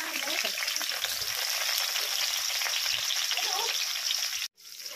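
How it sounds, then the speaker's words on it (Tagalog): Eggplant frying in hot oil, a dense, crackling close-up sizzle that runs steadily and then cuts out abruptly near the end before resuming briefly. "ay ipiprito natin dito yung talong"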